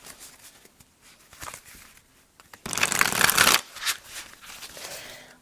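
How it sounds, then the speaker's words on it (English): A deck of tarot cards is shuffled by hand, starting with soft scattered flicks, then a dense riffle lasting about a second, followed by lighter card rustling, close and alone. "Let me just shuffle these back up"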